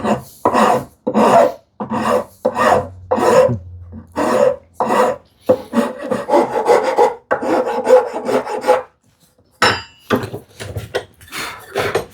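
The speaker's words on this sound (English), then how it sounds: "File gives like a super clean finish." A hand file rasps against wood while a DIY wooden rebate plane is being shaped, giving a steady run of rhythmic scraping strokes, close and loud, that merge into continuous rubbing before a pause and a few final strokes.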